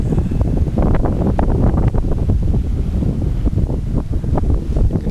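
Strong wind buffets the microphone during a paragliding flight at King's Seat, a loud, continuous roaring rush with gusty fluctuations and no speech.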